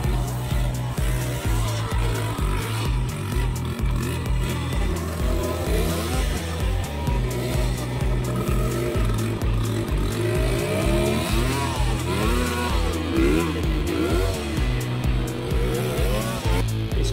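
Motorcycle engines rev and drone continuously in congested road traffic, loud and close, with the rising and falling pitch of nearby bikes throttling in stop-and-go movement.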